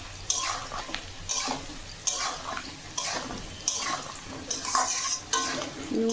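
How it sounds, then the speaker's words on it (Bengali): Onions fried with salt and turmeric in a pan are stirred in repeated scraping bursts, close and moderately loud, with no talk. "নুন হলুদ দিয়ে এটাকে হালকা করে ভেজে নিতে হবে"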